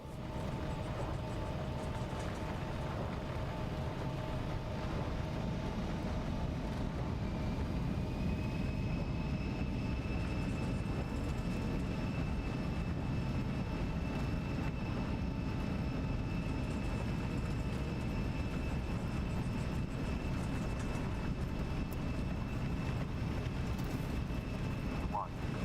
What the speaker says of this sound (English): We are on takeoff roll.